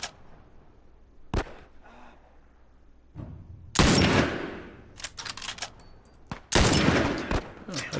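Gunfire from The Last of Us on Grounded difficulty, several sharp loud shots in bursts with quiet gaps between, the later ones dense and rattling.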